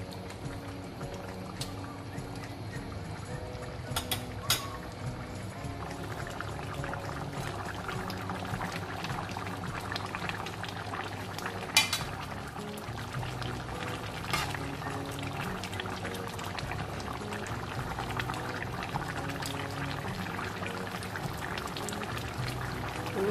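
Curry with coconut milk simmers and bubbles steadily in a pot, with soft popping and occasional sharper clicks over a continuous low bubbling.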